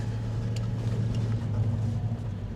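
A new vehicle's engine idles and runs steadily in a low drone during a driving lesson, with faint clicks over the constant hum.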